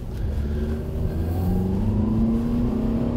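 Honda car engine accelerating on a test drive after a new ground cable was fitted, with a transmission showing delayed shifting; steady, loud engine note rising in pitch through the run, close and continuous with no talk.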